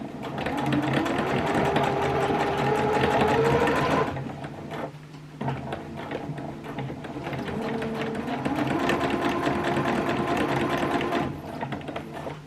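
Sewing machine stitching trouser pieces for dungarees, loud and close, a long whirring run that breaks off briefly and then starts again, rising and falling in speed, with no voices.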